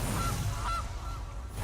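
A cartoonish goose honk sound effect from the card game MTG Arena sounds twice over a low steady background, clear and close with no talking.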